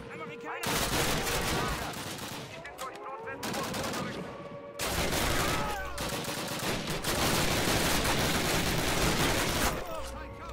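Dense, loud gunfire fills a Call of Duty firefight, near bursts with background game music and effects running throughout, broken by brief gaps.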